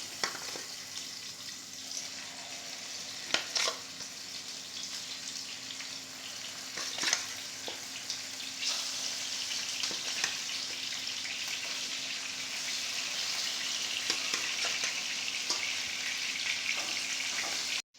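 Steady hissing sizzle of fish pieces frying in mustard oil, with occasional pops and crackles throughout, close and continuous.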